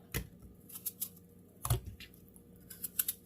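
A knife cutting the core out of pieces of peeled apple for apple pie: a few sharp, brief cuts and taps spaced irregularly, close and fairly quiet, with no talking.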